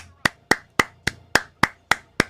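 A single person claps alone in a steady even rhythm, eight sharp close hand claps spaced about a quarter second apart in a quiet room.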